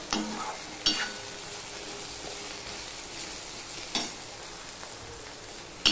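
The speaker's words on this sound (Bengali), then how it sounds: "আমি এটা ভাজতে থাকবো। দেখো ভেন্ডি আলুটা কিছুটা ভাজা হয়ে গেছে" Steady sizzling of okra and potato frying in a pan, with a few sharp clinks of a spatula stirring every few seconds.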